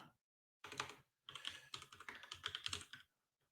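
Fingers type on a computer keyboard in two quick bursts of crisp key clicks separated by a short pause, close-up and quiet, with no voices.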